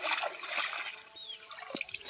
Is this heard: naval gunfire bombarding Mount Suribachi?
no